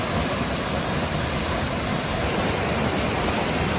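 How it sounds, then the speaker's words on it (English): Dawson Falls in New Zealand's Egmont National Park roars as a steady, loud broadband rush of falling water, unbroken and close, with no voices. "Waterfall."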